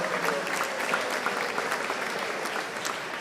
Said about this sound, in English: A big round of applause for these chefs.